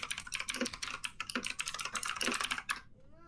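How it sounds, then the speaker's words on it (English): Fast typing on a computer keyboard, a close, crisp stream of clacking keystrokes in quick irregular bursts that stop abruptly near the end, with no talking. "Those keyboard clicks, oh my goodness gracious"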